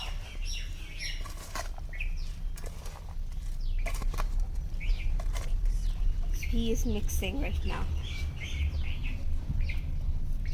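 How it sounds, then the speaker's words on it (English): Many birds chirping outdoors in the background, a scattered run of bright tweets and calls with some wing flutters, under a person speaking nearby. "You can hear so many beautiful birds chirping behind us."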